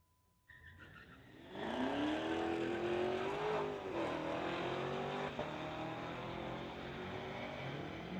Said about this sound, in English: Camaro on the spectator side going against David Nicol in his 2014 Ram.